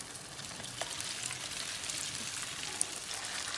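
Pieces of tofu frying in hot oil in a pan, a steady close sizzle with faint crackle, moderately quiet and continuous with no talk.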